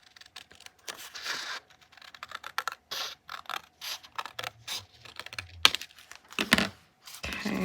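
Scissors snipping through paper in a craft stamping project, a series of short crisp cuts and crinkles, close and fairly loud with no speech.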